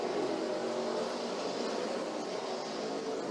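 NASCAR Xfinity Series race cars at Mid-Ohio on a rain-affected day, a steady, dense roar of engines and tire noise that holds loud and continuous throughout with no break.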